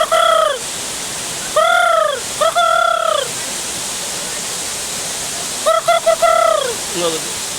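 Ducks by the water on a trek near Shillong, Meghalaya, give loud nasal calls in short bursts: one, then two, a long pause, then a quick cluster of several, all over a steady wash of background noise.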